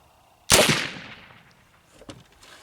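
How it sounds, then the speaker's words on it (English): A single sharp, loud report from a .36 caliber black powder long gun cracks out and decays quickly, followed by faint rustles and a soft knock. "I'm going to just point the gun over to see where it hits"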